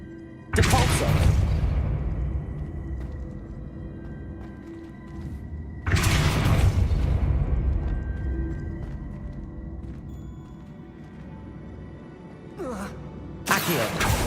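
Spell-casting blasts from Hogwarts Legacy gameplay, with three sharp, loud whooshing bursts that each decay slowly, plus a brief rising swish near the end.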